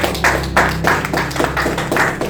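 Church congregation applauding, a rhythmic clapping in a steady beat of repeated claps over a low, continuous room hum.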